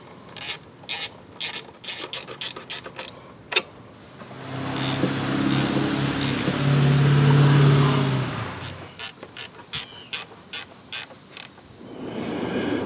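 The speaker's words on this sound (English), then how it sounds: "I'm just going to go around and basically tighten all these bolts to hold this cover on." Ratchet wrench tightening the timing cover bolts on a 1999 Grand Am 2.4L engine, heard as several bursts of rapid clicking, close and crisp, with a steadier mechanical whir in the middle.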